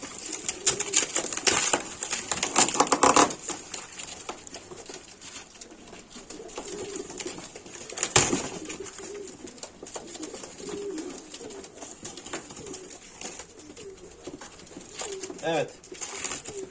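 Pigeons coo in soft repeated throaty calls at close range, with bursts of wing flapping and rustling early on, while someone talks intermittently over the birds during a surprise bird reveal.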